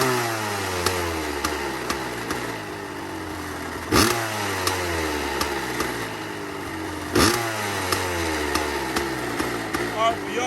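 Close, loud Kawasaki KX 500 two-stroke dirt bike running raspy just after a cold start, idling with sharp throttle blips near four and seven seconds.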